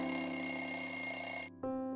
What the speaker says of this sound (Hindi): सुबह के 7 बजे अलार्म बजता है।